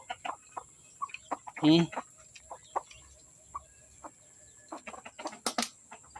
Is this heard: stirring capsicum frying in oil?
no